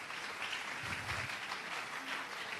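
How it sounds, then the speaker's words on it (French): A church congregation claps hands in praise during a worship service, a dense, steady wash of applause holding at even loudness throughout with no voices over it. "tobeti maboko mpo na nkolo"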